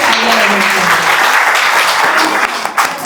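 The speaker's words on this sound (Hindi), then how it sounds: "आप बच्चों भी एक बार जोर से तालियां बजाइए।" Children at a school celebration in Raipur clap loudly together, a dense steady wash of applause lasting the whole moment with a few faint voices underneath.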